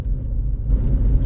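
Car driving at night, a low steady road rumble from inside the vehicle, smooth and continuous with no talking.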